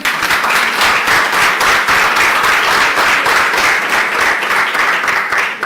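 Loud, sustained audience applause and clapping at a stakeholder roadshow event in Durban, South Africa, a dense and even roar of many hands that holds steady without pause, with no talk over it.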